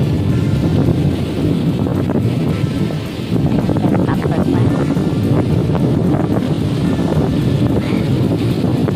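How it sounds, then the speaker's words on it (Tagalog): Strong wind roars and buffets the microphone continuously on Borik Beach in Zadar, Croatia, on the Adriatic coast, with a voice briefly speaking beneath the steady rushing noise. "Diba naririnig niyo? Lakas ng hangin."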